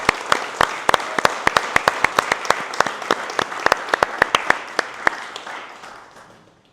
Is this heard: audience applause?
yes